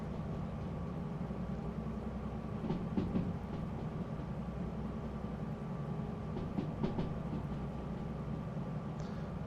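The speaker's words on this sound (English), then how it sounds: "I have both locomotives operating, so got plenty of pulling power." Two locomotives haul a train up a steep grade in the Derail Valley simulator, a steady low rumble of engines and rolling wagons with a few faint clicks of wheels over rail joints, continuous and moderately quiet.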